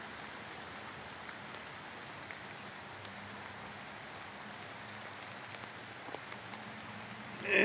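Rain pours down steadily on a rainy late afternoon, an even wash of hiss and patter with a faint low hum beneath, continuous and quiet until a louder bump at the very end.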